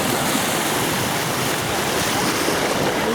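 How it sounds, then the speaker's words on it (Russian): Sea waves breaking on a shallow shore during a first swim, a steady, loud broadband rush of surf close by with wind buffeting the microphone and no voices. "Волна подшибает."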